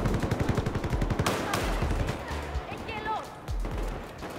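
Battlefield 4 gameplay opens with a rapid, loud burst of machine-gun fire. Scattered heavier shots, impacts and a faint whistling tone follow.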